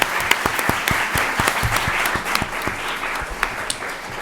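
A studio audience applauds to close a talk program on Rome and the Gauls, a brisk run of distinct claps with sharp individual hits standing out over a continuous patter.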